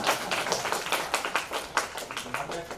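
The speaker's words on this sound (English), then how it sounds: "Big claps." Audience clapping at an HR conclave panel discussion, a run of fairly quick, evenly spaced claps at moderate distance, somewhat faint.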